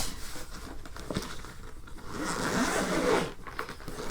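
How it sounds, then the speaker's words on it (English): A zipper is pulled open and closed on a bag, a close, soft rasping that rises and falls in short strokes. "they give you this nice little zipper tote"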